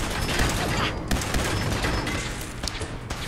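Rapid gunfire from a shootout in the video game Fallout 4, a dense continuous barrage of shots and booms that runs throughout, loud and close.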